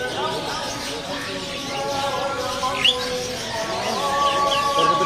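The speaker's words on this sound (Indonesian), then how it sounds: "Di kios ini juga ada burung perkutut putih ya." White zebra doves (perkutut putih) at a bird market stall, with thin chirps and calls scattered over a steady background of market voices and nearby talk.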